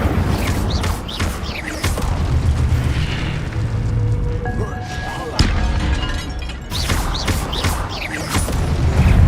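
Incendio fire spell cast in Hogwarts Legacy, giving a loud booming, crackling burst over dense game sound, with repeated impacts and a roaring whoosh through the scene.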